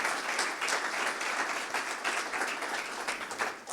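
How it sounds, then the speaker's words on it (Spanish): Steady, dense applause for an author at a panel discussion on Uruguay's international insertion and development, many hands clapping continuously and fairly close throughout. "un aplauso para Ricardo también"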